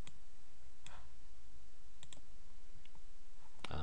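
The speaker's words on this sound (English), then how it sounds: "I will click save" A computer mouse clicks several times, faint and sparse, with one sharper, louder click near the end over a steady background hiss.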